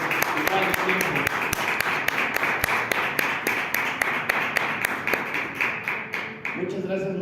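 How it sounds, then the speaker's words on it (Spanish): A gathering at a literary and film event gives its guests another round of applause: dense, steady clapping close by that thins out near the end as voices come in. "les damos nuevamente un fuerte aplauso a ellos"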